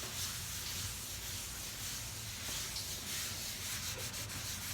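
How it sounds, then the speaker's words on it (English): Steady scrubbing on a surface being cleaned until smooth, a continuous close rubbing texture with faint hiss and no pauses, no voices. "So I just keep scrubbing until it's smooth."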